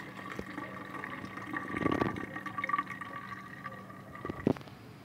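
Grated coconut is squeezed by hand through a sieve to make coconut milk, giving soft wet squelches and liquid trickling, with a couple of sharper splashy pulses near the end, close and fairly quiet.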